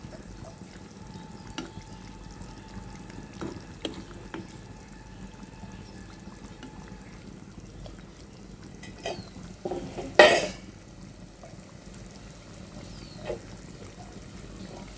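Small river boal fish curry being stirred in a cooking pot, a soft steady scraping and simmer with a sharper clatter near the end, close and moderately quiet.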